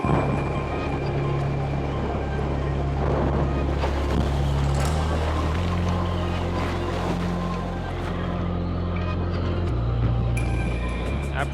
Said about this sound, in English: We have around 40 knots sustained winds.